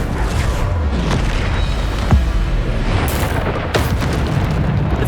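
Bombarda explosion spells in Hogwarts Legacy sound as loud, booming blasts over a dense rumbling battle mix, with sharp bursts near the middle and end.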